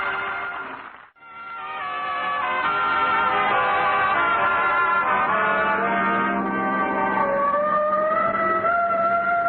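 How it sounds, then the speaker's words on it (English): A wailing siren rises after a short gap and holds a steady mournful tone, its pitch slowly sliding, loud and continuous throughout. "Oh, the siren."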